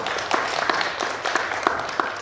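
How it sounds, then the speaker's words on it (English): A panel audience applauds a speaker, a brisk and fairly loud burst of overlapping hand claps with several distinct nearby claps standing out, sustained across the whole moment. "Round of applause for Abbas Khan."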